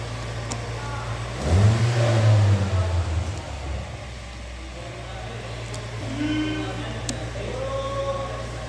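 A car starter motor spun on a no-load bench test whirs up loudly for about two seconds with a strong low drone, then drops away, leaving a steady background hum.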